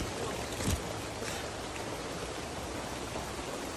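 Steady outdoor rainfall makes a dense, continuous hiss with no breaks, broken only by one soft thump near the start.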